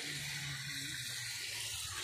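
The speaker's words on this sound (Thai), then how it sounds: "น้ำไหล" Water runs from a tap in a vegetable garden, a steady close hiss and splash that continues evenly throughout, with no voices.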